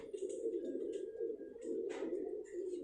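Salara pigeons give a continuous low coo, close and steady, with a brief brighter noise near the end and no clear talk.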